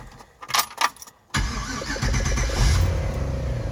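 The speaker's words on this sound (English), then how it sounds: "so it starts and it idles pretty damn good" A Volvo 240 with no idle air valve cranks and catches after a few jangling key and clicking sounds, then settles into a steady, fairly loud idle close by.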